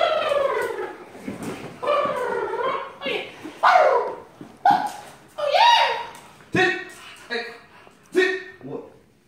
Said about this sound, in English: Proof that my Winky could be a military working dog right here